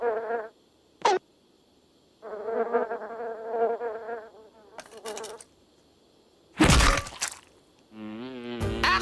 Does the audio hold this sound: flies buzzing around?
yes